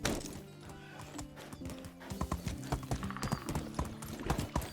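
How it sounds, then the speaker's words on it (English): Horse hooves clip-clop in a quick, uneven rhythm in the medieval survival game Medieval Dynasty, close and fairly quiet, with a whinny and a few wooden knocks mixed in. "Where's my horse? Here he is. Come on, Steve. Let's go"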